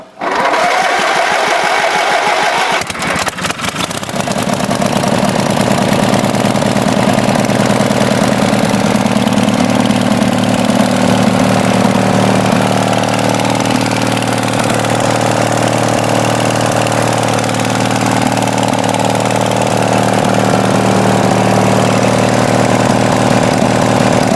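An antique racing tractor engine runs steadily after its first start in years following a fuel delivery fix, a loud, even mid-pitched idle with rough mechanical clatter that holds continuously once it catches.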